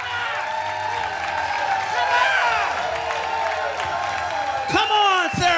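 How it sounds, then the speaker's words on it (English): Comedy show audience in Sarasota bursts into loud applause and cheering, steady clapping with whoops rising and falling throughout, and a voice calling out near the end. "Come on, Sarasota, clap your damn hands."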